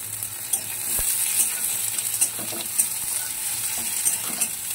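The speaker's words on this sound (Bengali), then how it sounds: "পেঁয়াজটা একদম লাল লাল করে ভাজতে হবে" Chopped onions fry in hot oil until browned, a dense, steady sizzle close up with intermittent scraping and stirring clicks from a spatula, no voices.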